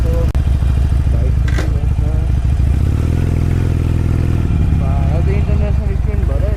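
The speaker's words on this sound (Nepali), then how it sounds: "बाइक" A motorcycle engine runs close by at low revs with a steady, continuous hum and rattle. It is held back so as not to disturb neighbours, and voices talk over it.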